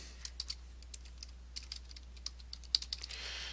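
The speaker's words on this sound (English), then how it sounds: "You're going to type in your name." Light keystrokes on a computer keyboard as a name is typed into a club signup form, a sparse run of soft clicks with small pauses, quiet and close with no talking.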